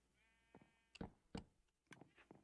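Sheep on a wool farm in a video game bleat several times in short, close calls over about two seconds, with no talk.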